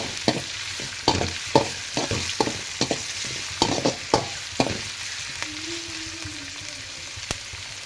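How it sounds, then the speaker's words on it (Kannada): Ingredients frying in oil in a pan, with repeated sharp stirring scrapes in an uneven rhythm over a steady background hiss, close and fairly loud, no talking. "ಹಾಕಿ ಇದನ್ನು ಕೂಡ ಆಯಿಲಲ್ಲೇ ಫ್ರೈ ಮಾಡ್ಕೊಳ್ಳಿ"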